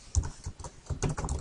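Typing code on a computer keyboard for a Visual Basic gross pay program, heard as a soft, quiet run of uneven clicks and taps in short bursts, close by, with no talking.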